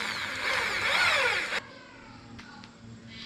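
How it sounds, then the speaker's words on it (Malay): A power drill bores a hole into a rubber wood log, whining loud and close for about a second and a half before cutting off, followed by quieter handling clicks. "ini gerudi yang aku pakai untuk aku nak buat lubang dekat tongkol kayu getah tu"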